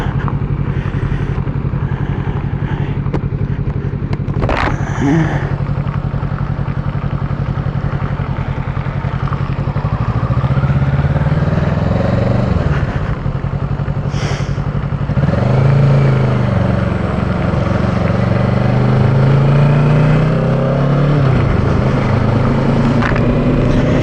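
Motorcycle ridden through traffic on a warm day, its engine drone rising and falling through several throttle changes over steady wind rush, loud and continuous.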